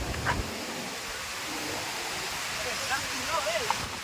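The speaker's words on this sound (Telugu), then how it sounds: "వాటర్ ఫాల్ బాగుందా వాటర్ ఫాల్" A steady rushing roar of falling water fills the scene, constant and broad, with faint voices barely audible beneath it.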